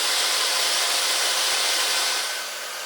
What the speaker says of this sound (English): I've tried a number of different methods to do this, but the belt sander works the best.